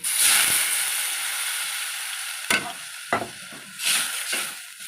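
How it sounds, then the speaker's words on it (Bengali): Water poured into spice paste frying in a pan on a vegetarian curry stove gives a loud sustained sizzle and hiss that fades, then a few sharper stirring scrapes and bursts of spattering follow. "এবার এর মধ্যে আমি জল দিয়ে দেবো"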